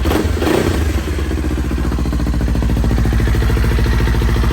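A Kawasaki Ninja 400 motorcycle engine runs nearby, a loud steady throbbing idle with a fast, even mechanical pulse throughout.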